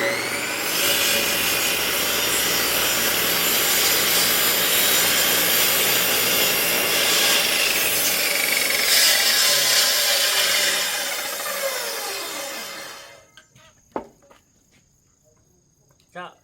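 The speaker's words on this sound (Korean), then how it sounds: "톱이 다 안 들어갑니다. 그러면 이렇게 돌아가면서 잘라야 됩니다." Hand saw cutting through a wooden log for fireplace firewood, working around the log since the blade can't reach through; a steady, continuous rasping drone for about thirteen seconds that stops abruptly, leaving near silence with a couple of faint knocks.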